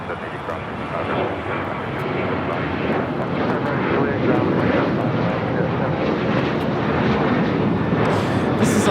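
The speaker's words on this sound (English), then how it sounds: "This is Alaska Airlines 1430 taking off to Los Cabos on the 737-900ER in the One World livery" An Alaska Airlines Boeing 737-900ER in One World livery takes off from Los Angeles, a rising, rushing engine roar building over several seconds, with people talking over it.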